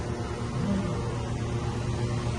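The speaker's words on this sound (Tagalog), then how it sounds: "Yung fan doon sa taas." A ceiling fan overhead gives off a steady, even hum with a faint hiss. It stays constant and soft, with no voices.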